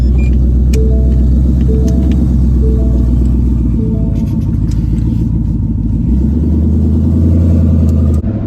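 A 1500 WHP Ford Mustang pulling away, a loud, close, deep engine rumble with a lumpy idle-like pulse that changes character partway through as it gets moving, with no talk over it.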